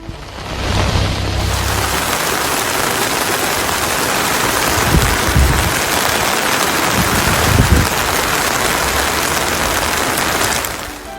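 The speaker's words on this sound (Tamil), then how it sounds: "கொடைக்கானல் உள்ளிட்ட பகுதிகளில் மிதமான மழை பெய்தது" Moderate rain falls steadily in Kodaikanal, a dense, continuous hiss of drops on surfaces with a few low rumbles, loud and close throughout with no voices.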